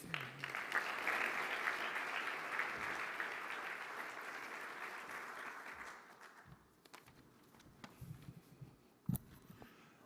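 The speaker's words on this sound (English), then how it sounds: "Let's give him a round of applause, please." An audience bursts into sustained applause at the opening ceremony of the 15th ITS European Congress in Lisbon. The clapping is full and steady at first, then gradually thins and fades, with scattered final claps near the end.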